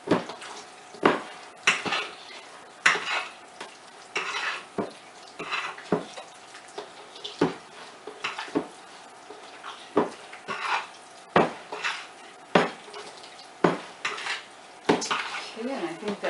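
Kolache dough being stirred in a nesting bowl produces repeated rhythmic knocks and scrapes of a utensil against the bowl, roughly one each second, close by and without speech.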